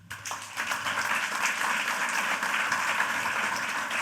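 Audience at a French conference applauding four speakers, a fairly soft, continuous patter of many hands sustained evenly throughout.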